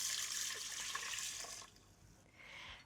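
Water poured into a rice cooker over black rice, a bright splashing stream for about a second and a half, then a short pause and a softer second pour, close and fairly quiet.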